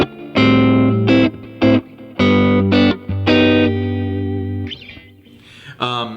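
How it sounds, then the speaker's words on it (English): Electric guitar, a JM Pro model, through a Kemper profile of a 1964 AC10 Twin, playing sustained chords and notes with a chorus-like shimmer, loud and close, trailing into fainter scraps of sound. "the profile we're gonna talk about is a 64 AC10 Twin B3"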